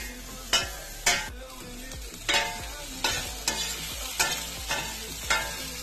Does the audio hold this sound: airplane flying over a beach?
no